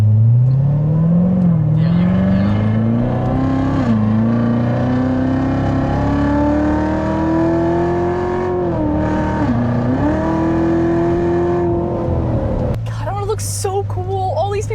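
A Corvette's engine drones steadily from inside the car at speed, its pitch climbing slowly with brief dips as it shifts and accelerates, loud and continuous for most of the stretch before cutting off abruptly near the end.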